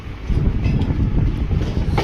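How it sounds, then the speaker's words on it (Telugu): A Hyderabad MMTS suburban train rumbles past at Arts College station, a loud, close, continuous rolling roar with faint rattling, no voices. "మనకి ఎంఎంటీఎస్ ట్రైన్లు అయితే చాలా అంటే చాలా వస్తాయి"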